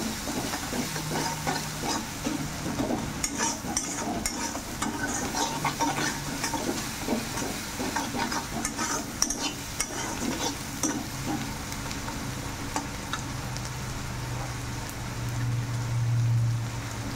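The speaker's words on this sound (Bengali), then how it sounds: "ভালো করে পেঁয়াজ রসুনের কাঁচা লঙ্কাকে ফ্রাই করে নেব।" Onion, garlic and green chili frying in a pan, a continuous soft sizzle with scattered crackles and occasional stirring scrapes, fairly quiet and steady with no talk.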